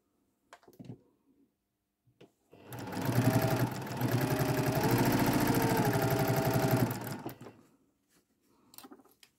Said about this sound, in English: I'm going to put those under the sewing machine.